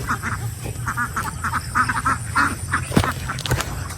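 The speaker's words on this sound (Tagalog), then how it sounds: "Puntahan ko na yung mga itik, sasabuyan ko na lang ng pagkain." Ducks quack close by in a run of repeated rhythmic calls, over a low steady background hum, with a few brief clicks near the end.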